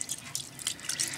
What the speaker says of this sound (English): I'm just going to swish the rice around and then drain it off